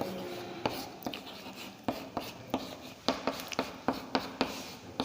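A classroom board being written on gives a run of close, sharp taps and short scratchy strokes in an uneven rhythm over a faint room hiss, with no talking.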